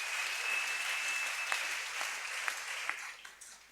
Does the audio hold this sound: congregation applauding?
yes